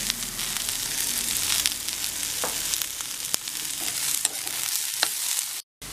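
Onions with a pinch of salt sautéing in a pan for bread upma, giving a steady close sizzle with scattered clicks of stirring and no talk, ending with a brief cut to silence.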